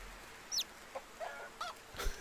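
Chickens cluck in the video game Medieval Dynasty, several short soft clucks and chirps scattered irregularly at moderate distance over quiet outdoor ambience.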